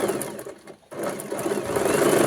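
A sewing machine runs steadily while stitching a girl's frock, a brief pause breaking the continuous mechanical whir before it picks up again, close and loud.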